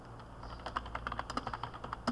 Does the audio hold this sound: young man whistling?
no